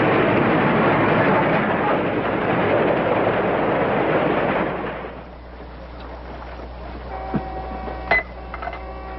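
A passenger train runs steadily on its way to Seaside, a loud continuous rumble and rattle that carries for about five seconds and then drops to a quieter hum with faint clicks and knocks.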